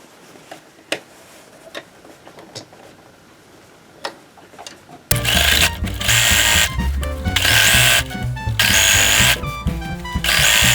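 A sewing machine stitches the side seams of a cotton tote bag's fabric lining: a few faint clicks, then loud, close, continuous mechanical whirring that surges and briefly pauses at intervals until the end.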